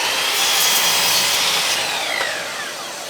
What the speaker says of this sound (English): Just mark it and cut it.